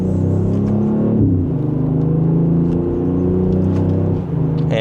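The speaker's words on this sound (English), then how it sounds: "Just a minor acceleration. There's a few crackles in that exhaust" A BMW X3 M50 accelerates in sport mode through second gear, its engine holding a loud, steady, rising drone with a brief gear shift, close and alone, though no distinct exhaust crackles stand out.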